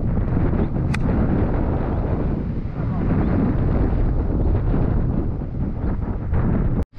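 Strong headwind blows across an uphill stretch of golf course, a loud, continuous rushing roar buffeting the microphone for several seconds before cutting off abruptly.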